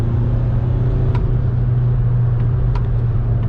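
A VW Caddy with 490,000 miles pulls at full throttle in third gear, giving a steady, loud low engine drone with road rumble heard from inside the van, with a few faint clicks over it.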